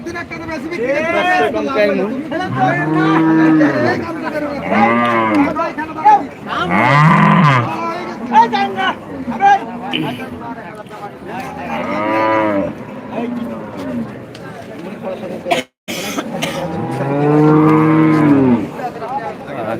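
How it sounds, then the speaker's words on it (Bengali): Big cattle at a large Bangladeshi livestock market moo again and again, loud and close, over a background of crowd chatter and voices. "এ পাশেও কিন্তু অত্যন্ত বড় বড় বিশাল আকৃতির গরুগুলি রয়েছে"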